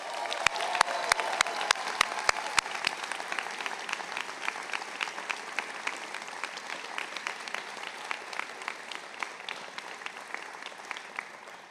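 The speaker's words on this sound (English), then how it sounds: "Give them a round of applause." Sustained applause fills a graduate school of management commencement ceremony in 2023, with loud, sharp claps close by at the start over a broad wash of crowd clapping that slowly thins out.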